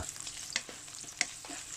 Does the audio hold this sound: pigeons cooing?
no